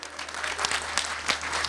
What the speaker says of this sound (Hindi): मुझे पता चलना चाहिए तालियों की आवाज़ से।